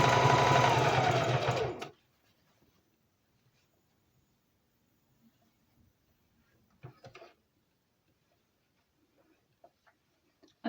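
Domestic sewing machine running a top stitch along a seam, a steady loud whirring burst for about two seconds near the start, then stopping, followed by near silence with a few faint handling clicks and bumps.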